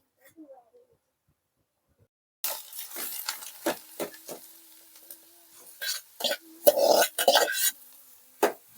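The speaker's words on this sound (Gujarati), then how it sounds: "આપણે આ બધી દૂધીને શેકી નાખશું થોડીક વાર ઘીમાં." Grated bottle gourd roasting in ghee for halwa makes a spoon scraping and stirring in the pan after a quiet start, with soft sizzling and uneven knocks of utensil on metal, heard close up.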